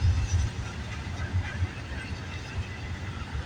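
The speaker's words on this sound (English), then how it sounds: "It's awesome to get a train race right now." CN freight trains pass side by side on parallel tracks in Vaughan, Ontario, giving a steady, close, heavy rumble with wheel and railcar noise and no talking.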